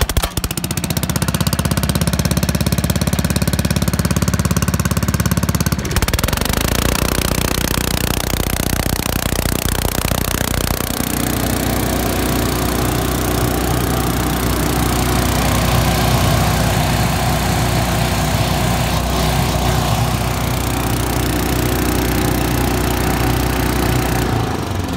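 A Trac-Vac engine cranks with the choke half on and the throttle at half, then catches and keeps running at a steady, loud idle drone until the end, with a brief rough change partway through.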